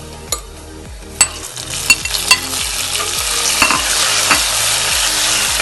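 Tomatoes are stirred into shallots sautéing in a pan, a continuous sizzle punctuated by sharp spoon scrapes and knocks against the pan at an irregular pace.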